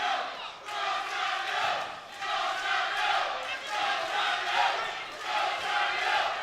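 Boxing crowd in a small arena shouting and cheering in rhythmic waves, rallying chant-like bursts rising and falling every second or so, moderately loud and steady throughout.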